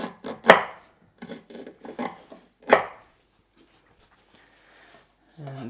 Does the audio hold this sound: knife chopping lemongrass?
yes